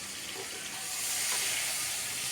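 Pointed gourd frying in hot oil in a pan gives a steady, close sizzling hiss that swells slightly partway through.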